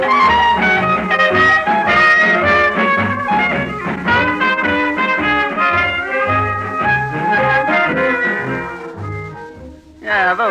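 Old-time blues band playing continuously, loud and full, with a steady bouncing low bass pattern under layered melodic instruments, ending with a brief break and a new chord.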